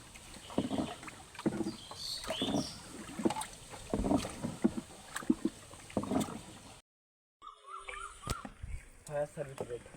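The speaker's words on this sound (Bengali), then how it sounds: "নৌকা ঘুরে নৌকা চলে আছে" A rowing boat moves through water in rural Bangladesh, with oar splashes and hull lapping under frequent nearby conversation, then a brief dropout before quieter water movement and more voices resume.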